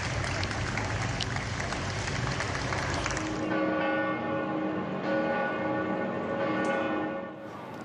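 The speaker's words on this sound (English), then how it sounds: "The bell rings out to call Pope Francis home." A church bell tolls in Rome during the funeral of Pope Francis, sustained ringing tones sounding over a broad crowd murmur that drops away midway, leaving the bell's lingering resonance clearer.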